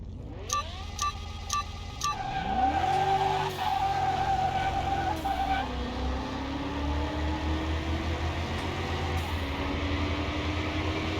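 A racing car in Car Mechanic Simulator 2021 revs hard against a Porsche Carrera, engine pitch climbing through gear changes into a sustained loud drone, with a brief tire squeal near the start.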